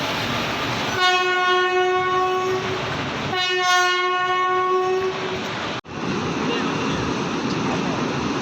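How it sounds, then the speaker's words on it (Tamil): Two long, loud horn blasts from locomotive 37149 hauling the Yercaud Super Fast Express, each sustained for about two seconds over the rumble and clatter of the moving train, followed by a brief dropout and continued rail noise. "37149 ஈரோடு வரைக்கும் போகக்கூடிய Yercaud super fast express Erode ஷெட்டோட பேப் சவுண்ட் கொடுத்துருக்காங்க"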